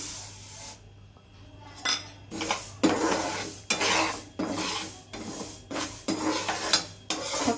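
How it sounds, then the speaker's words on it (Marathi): Mustard seeds dry-roasted in a pan on a gas stove for mango pickle masala, a series of loud rasping scrapes as the seeds are pushed around, coming in uneven strokes close to the listener with no talking. "गॅसवर पॅन ठेवलाय तर इथे मी राई घेतली एक वाटी थोडीशी परतून घेते मी"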